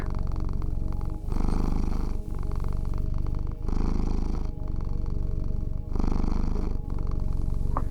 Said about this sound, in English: Feel this rhythm of purr